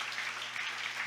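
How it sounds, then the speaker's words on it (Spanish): A church congregation claps steadily in praise during a Spanish-language worship service, a dense, even wash of many hands sustained throughout at a fairly loud level. "Fuerte ese aplauso al Señor"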